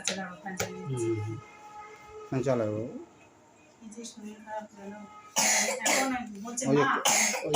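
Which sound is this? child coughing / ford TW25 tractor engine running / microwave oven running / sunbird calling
child coughing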